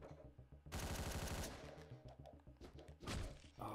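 Heavy, booming shotgun blasts in a Hotline Miami boss fight, a loud roaring burst followed by repeated thumping shots in quick succession, then another big blast near the end.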